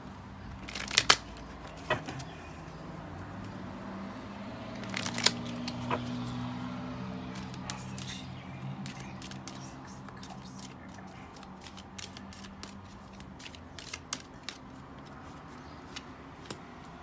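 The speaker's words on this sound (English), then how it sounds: "I'm going to pull some clarifying cards just to see what comes up." Tarot cards are pulled and handled during a reading, giving soft papery flicks and shuffles with a few sharp snaps near the start and scattered light ticks throughout, close and quiet over a low steady background hum.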